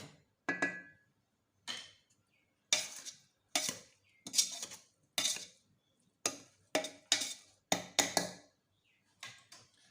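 Cutlery scrapes and clatters against a plate as stir-fried yellow Betong noodles are served, about a dozen separate scooping strokes with short silences between them, close and fairly crisp.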